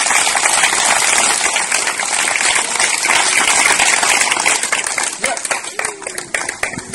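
A church congregation claps and cheers for Jesus, a dense, loud wash of hand claps and shouting that carries through the whole stretch and thins slightly toward the end.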